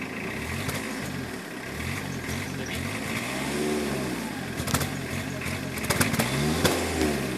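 A cold BMW E36 318 tds diesel engine is revved close by, rising and falling through a few throttle blips over a rough clattering idle, with people talking over it.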